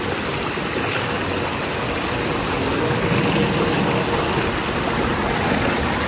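Stream water runs over a small crossing on a monsoon trek to Malang Gad. It is a steady, loud, close rush of flowing water that carries on unbroken from start to end, with no voices.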